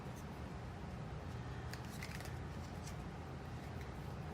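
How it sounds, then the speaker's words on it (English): Tarot cards are shuffled by hand during a reading, giving a run of soft, papery riffles and flicks close by over a low, steady room hum, with no one talking. "I am going to go ahead and shuffle."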